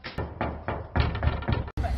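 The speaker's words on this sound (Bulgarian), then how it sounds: "Стана някой да ни чукне на вратата." Repeated knuckle knocks on a door come in several loud, uneven bursts, close by, with no talking over them.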